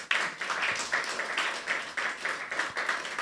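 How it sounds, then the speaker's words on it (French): A church congregation claps in a steady, rhythmic beat, the moderate clapping filling the room at an even pulse. "On peut applaudir à la gloire de Dieu pour vous"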